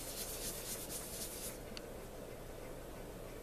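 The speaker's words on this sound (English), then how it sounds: "what I usually do is I just sort of fluff it up and kind of rub it" Fluffed wool is rubbed by hand for needle felting a toy poodle. The result is a soft, continuous close-up brushing hiss that grows slightly fainter partway through.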